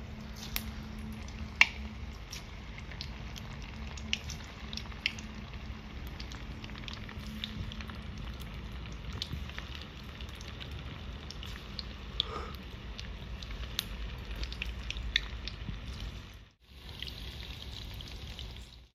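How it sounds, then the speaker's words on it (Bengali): Chicken 65 pieces dropped one by one into hot oil sizzle and crackle steadily, with scattered sharp pops over a soft bubbling hiss that briefly cuts out near the end. "তেল গরম হয়ে গেছে, একটা একটা করে ছেড়ে দিচ্ছি"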